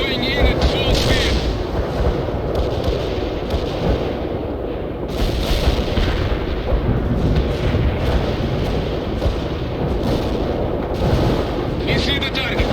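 Heavy gunfire and explosions from an Mi-24 gunship attack in World in Conflict, a loud, continuous barrage of blasts and booming impacts, with radio voices speaking over the battle.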